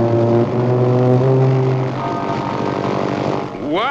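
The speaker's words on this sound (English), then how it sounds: "you can actually feel the plane taking off" A cartoon airplane roars through its takeoff in a Mr. Magoo scene, a loud buzzing propeller drone with rising and falling engine tones, ending in a quick upward whine.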